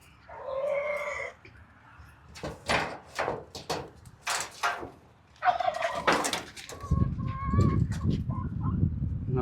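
Chickens and a turkey released from a coop after two days without feed, with a burst of gobbling, squawks and clucks, then a cluster of loud cackles and fluttering bustle close by, no talk.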